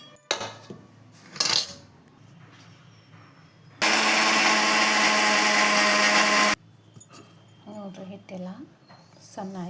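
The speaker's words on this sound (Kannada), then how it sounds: "ಅದಕ್ಕೆ ಇಲ್ಲೇ ಮಿಕ್ಸಿಗೆ ಹಾಕ್ತೀನಿ ರೀ" A mixer grinder whirs loudly for about three seconds, grinding grain into flour in a home kitchen; clinks and talking come before and after it.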